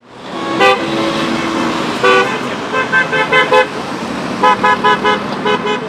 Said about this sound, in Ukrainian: автомобілісти, які проїжджали повз, подавали звукові сигнали